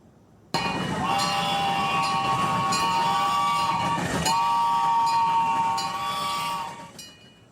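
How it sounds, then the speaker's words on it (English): A new electric train ride at Pullen Park rolling past on a hot afternoon, a loud steady rumble of wheels on rails with sustained horn-like tones and metallic clinks, fading away at the end. "today was the first Saturday that visitors could board Pullen Park's new electric train"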